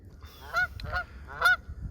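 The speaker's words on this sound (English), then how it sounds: "There's some noisy Canada geese" Canada geese honk three times on a foggy morning lake on the Trent-Severn Waterway between Buckhorn and Burleigh Falls, fairly close and clear, in a quiet outdoor setting with little background noise.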